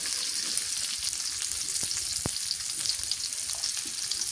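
Chopped onion frying in mustard oil in a pan, a loud continuous sizzle with a couple of sharp spoon clicks, steady and close throughout.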